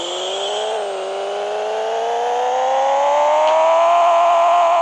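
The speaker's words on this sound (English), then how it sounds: "Let's give it a dyno run." A car engine on a dyno run rises in a smooth, loud, steady rev, dipping briefly early and then climbing continuously, with a whirring drone throughout.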